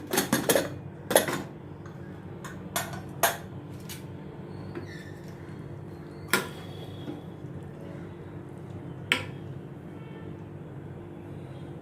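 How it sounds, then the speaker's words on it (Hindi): A metal pressure cooker lid is opened in a home kitchen: a cluster of sharp clanks at the start, then scattered metallic knocks and clicks over a low steady hum. "अभी कुकर का ढक्कन मैं खोलती हूँ।"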